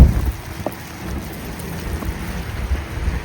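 Rain falling during a drive on a slushy road on a cold, snowy day, heard from inside the car as a continuous wash of rain and tire hiss over a low road rumble, with no talking.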